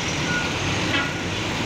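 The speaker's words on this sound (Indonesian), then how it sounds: "Oh ternyata ini Harapan Jaya medium, bus paket kayaknya" A medium-sized Harapan Jaya package bus passes on a busy road at the Kras junction in Kediri regency, giving a steady, fairly loud engine and road rumble throughout with no talk.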